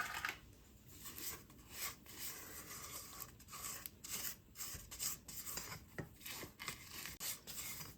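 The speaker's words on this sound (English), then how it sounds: "I'm going to scrape the sides." A spatula scrapes around the sides of a bowl of vanilla cake batter with the mixer off, making soft repeated rubbing and scraping strokes, close and quiet.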